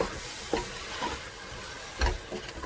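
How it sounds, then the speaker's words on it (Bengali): Spice paste for a duck meat curry stir-fried in a pan, with a steady close sizzle and a few louder scrapes and stirs of the spatula, no voices. "মশলাটাকে আমি 3 মিনিটের মতন এভাবে কষিয়ে নিয়েছি।"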